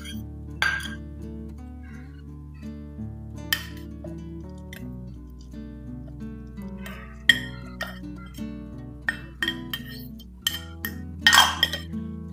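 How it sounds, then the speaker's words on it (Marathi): Roasted spices are tipped into a steel mixer jar, giving scattered sharp metallic clinks and taps over a low steady hum. "आता जे जिन्नस आपण भाजून घेतलेले आहेत ते एका मिक्सरच्या भांड्यामध्ये काढून घेतेय"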